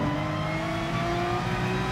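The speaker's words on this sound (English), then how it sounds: "little growl underneath whole engine sound. There's the whine, whatever, but then there's this little growl underneath it." A race car engine in Gran Turismo Sport, a GR.3 car at the Nürburgring, holding a steady, loud drone, a rising whine layered over a low growl, continuous with no talk.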